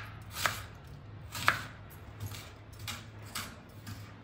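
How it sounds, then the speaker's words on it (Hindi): A knife chops onions into thin, long slices on a board, with several soft, dull thuds spaced about a second apart. The cuts are close but quiet, and no one speaks. "और ऐसे ही ये सारे प्याज कट कर लेंगे"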